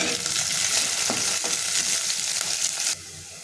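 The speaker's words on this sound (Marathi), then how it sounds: "हे आपल्याला परतून घ्यायचे ह्याच्यामध्ये मी बारीक चिरून घेतलेला कढीपत्ता टाकून घेतलेला आहे" Finely chopped curry leaves with garlic and onion sautéing in a pan, a dense loud sizzle with a few spoon scrapes, cutting off abruptly to a much quieter hiss near the end.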